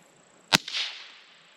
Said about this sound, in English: listen carefully to the very first shot